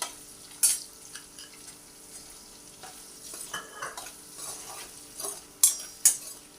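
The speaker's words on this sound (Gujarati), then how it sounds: "આની અંદર ડુંગળી એડ કરી દઈશું, જે આની સાથે જ સંતળાઈ જશે" Onion added to potatoes frying in a pan for batata poha, with a light sizzle under repeated clinks and scrapes of a spoon stirring against the pan, sharper knocks near the start and end.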